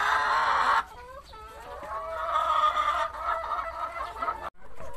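Farm chickens clucking as they are fed, a loud burst of clucking at first, then steady nearby clucking and squawks continuing to the end, with no talk.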